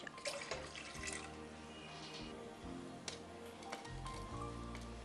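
Water poured from a tap into a pressure pan over corn cobs, a soft continuous splashing and trickling with occasional drips, close but quiet, no talk.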